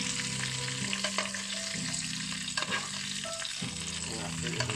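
Chicken thighs frying in a pan, a dense steady sizzle with clinks and scrapes of stirring, close up and without voices.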